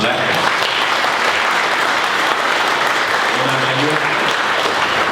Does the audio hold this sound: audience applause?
yes